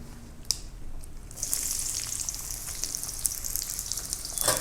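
Onions go into about two tablespoons of hot oil and start to fry. A bright, hissing sizzle swells up after a couple of soft knocks and then holds steady and close, with no talking.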